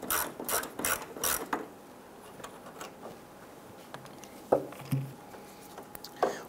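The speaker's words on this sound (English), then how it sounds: "Remove this screw right here. It's your 7 millimeter." A 7 mm screw is backed out of a headlight bezel on a 1995–2001 Ford Explorer, giving quick, faint ratcheting clicks in bursts at the start, then a few sparse, louder metallic ticks and clacks near the end.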